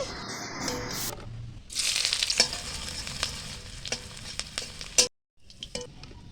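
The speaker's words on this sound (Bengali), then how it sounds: "কড়াইতে সর্ষের তেল গরম করে চিকনি লঙ্কা আর পেঁয়াজ ভালো করে ভাজে নিই" Green chillies and onion fry in hot mustard oil in a wok, a loud, steady sizzle broken by stirring scrapes and clicks, with a brief drop to near silence just before the end.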